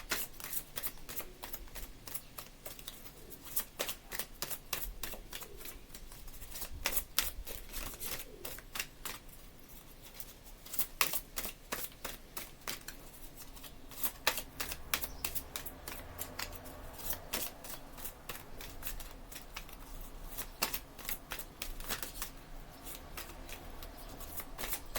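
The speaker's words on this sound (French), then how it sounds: "Allez, on prend une dernière carte." Tarot cards shuffled continuously for the whole stretch, a dense, steady riffling and flapping of card stock close by with no talking.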